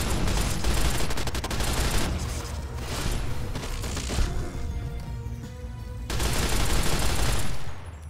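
Sustained heavy gunfire in the video game Fallout New Vegas, loud dense bursts of automatic shooting that ease briefly in the middle and then surge again, close and continuous with no voices.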